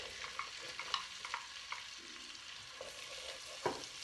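Onions and celery sauté in melted butter in a pan for mushroom soup, a soft, faint sizzle with occasional light stirring scrapes and taps.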